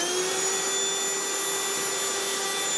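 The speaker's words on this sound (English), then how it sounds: "Do you want to get the Hoover?" A Hoover vacuum cleaner sucking up drilling debris, its motor giving a steady, high, tonal whine that stays unbroken and close.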